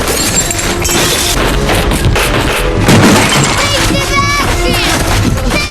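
A film sound effect of an object smashing down through a wooden floor: heavy booming crashes and shattering debris, loud and continuous across the clip, layered with rumbling impacts.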